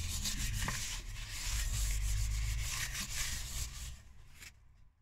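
The inside of a cake tin, including its central crown and walls, is greased with butter, giving a continuous close scraping and rubbing that eases off at the end.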